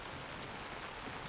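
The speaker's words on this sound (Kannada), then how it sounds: "ಆಚೆ ಬರ್ತಿದ್ದಾಗೆ ಮಳೆ ಜಾಸ್ತಿನೇ ಆಗ್ತಿದೆ" Heavy rain pouring steadily outdoors as darkness falls, a dense, even hiss of close drops hitting surfaces with no break and no voices.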